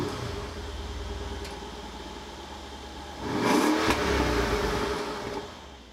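A 2017 Mercedes-AMG GLE63 S engine idles with a deep rumble, then is blipped into a sharp rev partway through, holding a louder growl before easing back. It is heard close and with no talk over it.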